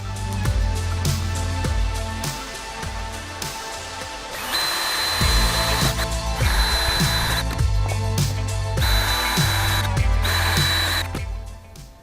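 A power drill bores an 8.5 mm hole, whining in several loud close bursts with shifting pitch as the motor loads and eases, no speech over it.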